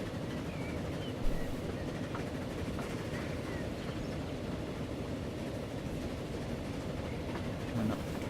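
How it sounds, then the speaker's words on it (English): Steady rumble of a train running on rails in the video game Transport Fever on an East Coast Main Line map near Peterborough, a continuous low drone with faint clattering throughout and no talking. "we see the train coming in the other direction"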